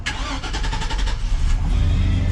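Classic Chevy truck engine cranking and catching, a rapid stuttering starter rhythm that settles into a rough low idle, close and loud with no talk.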